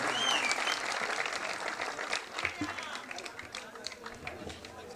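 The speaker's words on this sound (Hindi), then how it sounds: "एक बार फिर तालियां होनी चाहिए इनके लिए" Applause from an alumni reunion and spring festival cultural day crowd at PGICA 5 Faiz, Multan, a dense wash of clapping for about five seconds with voices and chatter mixed in.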